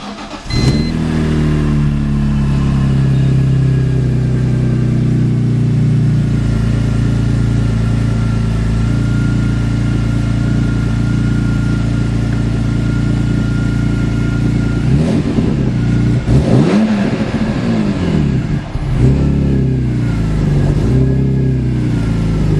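A turbocharged car idling high on a cold start with no foot on the gas, the engine holding a loud, steady raised drone for about fifteen seconds before the revs wobble and surge, then settle again.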